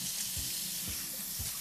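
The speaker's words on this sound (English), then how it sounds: "I want to make sure and wash my hands off" Hands are washed under a running kitchen tap after handling raw chicken: a steady hiss of flowing water with soft splashing and a few low thumps of hands moving in the stream, close and alone.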